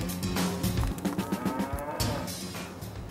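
Cattle in a pen, surrogate mother cows alongside cloned calves, lowing and mooing close by in several overlapping calls, with animal shuffling and no talking.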